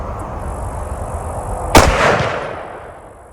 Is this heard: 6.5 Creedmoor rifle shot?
yes